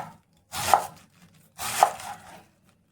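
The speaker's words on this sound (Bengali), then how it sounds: "তো প্রথমে আমি বাঁধাকপিটা কেটে নেব।" Knife chopping cabbage on a board, two distinct close chopping strokes about a second apart, each a crisp thud with a short rustle, separated by near silence.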